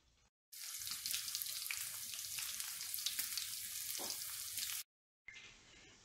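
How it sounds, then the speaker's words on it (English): A steak hits a pan of melted butter and sizzles loudly and steadily, a bright crackling hiss that cuts off abruptly after a few seconds, then returns more faintly. "Now that my butter's melted, I'm going to put the steak in the pan."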